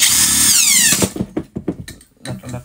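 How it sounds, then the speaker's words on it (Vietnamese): Power hammer drill: a high whining motor spin that winds down, then a run of short, sharp, uneven bursts of rattling impact, loud and close. "chuyên vít, à máy búa."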